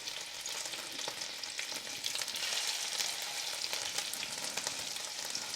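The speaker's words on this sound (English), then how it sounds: "So now we are ready to go in with our scallops, and we just start on one end just like that" Scallops sear in foaming butter in a pan over medium-high heat, giving a steady, close, busy sizzle and crackle that runs throughout with no talking.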